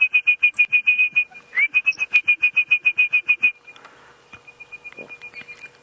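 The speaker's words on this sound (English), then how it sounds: "Now, Brian, that bird, the orange-breasted bushshrike, seems to be quite close by." An orange-breasted bushshrike calls close by in a long series of clear, evenly spaced whistled notes on a steady pitch, pausing briefly before continuing, with softer calls trailing off at the end during a sunrise safari drive.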